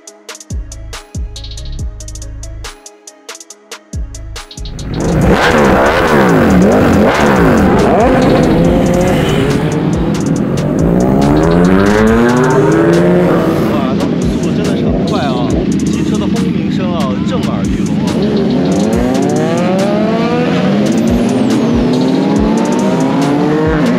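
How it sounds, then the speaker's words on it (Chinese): A convoy of vehicles setting off in São Paulo, Brazil: after a few quiet seconds, engines roar up close and loud, repeatedly revving and accelerating with rising and falling pitch as they pull away together. "现在呢，雷站长呢就要跟这个车队呢一起出发了啊"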